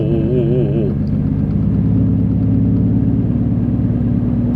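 The 1JZ engine of a Toyota Chaser JZX100, about twenty years old and stranded after an accident, catches after oil-leak repairs: a brief warbling cranking whine in the first second, then a steady low idle rumble that stays loud and even.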